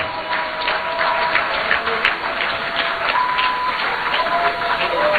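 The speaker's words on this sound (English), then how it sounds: "A big round of applause." A large audience at a Juneteenth celebration at Christiansborg Castle in Osu, Ghana, applauds continuously, with dense clapping that stays loud and even, and scattered voices and faint cheers mixed in.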